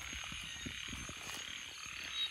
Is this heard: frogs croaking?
yes